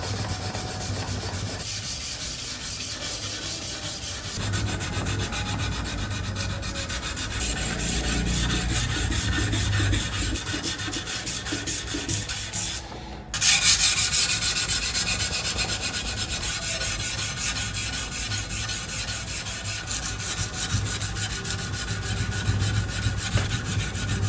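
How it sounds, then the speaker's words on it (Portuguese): Steady dry scraping of sandpaper rubbing back and forth over a knife blade, continuous and close, with a brief pause midway before resuming. "Agora a primeira lixa a seco"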